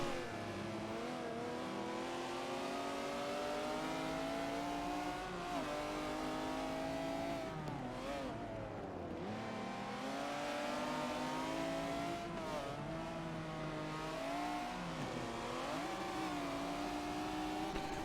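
Race car engines from Forza Motorsport 7, including a 1997 McLaren, roar continuously for the whole stretch, revving up and down through gear changes in a dense, loud, overlapping pack, with no voices.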